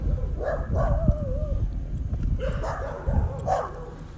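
Several dogs bark and yip in bursts at a moderate distance, a few sharp barks followed by a drawn-out whining howl.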